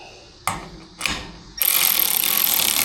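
A wrench tightens the nut and bolt on an oil pump mount during an oil change on a 2017 Ford F150 2.7 EcoBoost, giving two sharp clicks and then a fast, continuous ratcheting close up.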